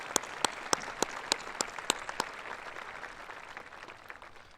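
Audience applauding at a middle school promotion ceremony, a steady wash of clapping with sharp individual claps standing out early, then thinning slightly as it continues.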